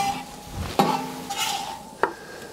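Onion goes into a hot pan over an open outdoor fire for pyttipanna, giving a soft sizzle with a couple of sharp stirring clinks of utensil on the pan, with no talking.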